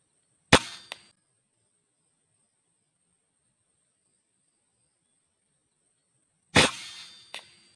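Two loud, sharp gunshots while hunting birds such as spotted doves, the first near the start and the second about six seconds later, each followed by a quick echo, with near silence in between.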